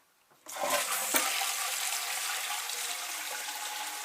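A noisy toilet cistern is flushed: a click, then a sudden rush of water that settles into a steady, fairly close hiss of refilling.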